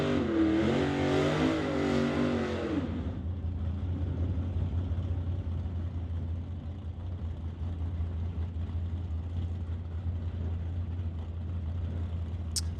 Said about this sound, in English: The Studebaker will race Ross Walker in his Chevy 2.